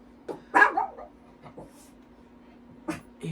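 A pet dog indoors gives a few short, sharp barks and yips at irregular intervals, close by and moderately loud, with quiet gaps in between.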